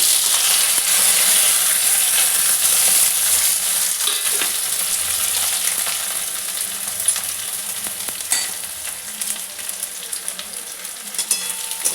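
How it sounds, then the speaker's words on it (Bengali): Onions fry in hot oil with bay leaf, green cardamom, cinnamon and cloves for a Bengali mutton curry, a loud, continuous hissing sizzle that eases slightly midway, broken by occasional stirring clinks. "দিয়ে আমি এবার পেঁয়াজগুলোকে ভালো করে ভেজে নেব।"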